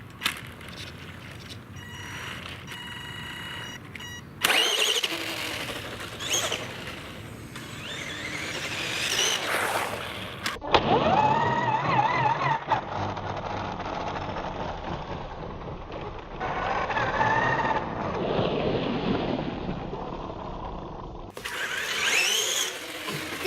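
Restored Tamiya Hornet RC car driving, its small electric motor whining and wheels rattling over the ground in uneven bursts, loud and close with shifting pitch as it speeds and turns, with a few abrupt cuts between runs.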